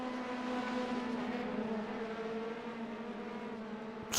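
GTE class race cars lap the Nurburgring in a racing video game, making a sustained, fairly quiet engine drone with gently shifting pitch and a brief sharp click at the very end.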